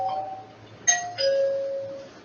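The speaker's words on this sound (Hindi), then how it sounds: "ये डोरबेल होप आपको सुनाई देगी होगी" An EZVIZ L2S smart lock doorbell chime rings out in two bright electronic tones, a short ping followed by a longer sustained note, close and clear over quiet room hiss.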